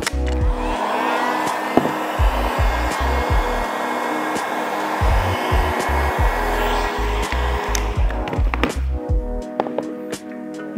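A heat gun or hair dryer blows a steady whooshing airflow while heating a vinyl kit, with intermittent clicks and handling noises throughout.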